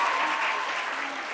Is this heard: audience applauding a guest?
yes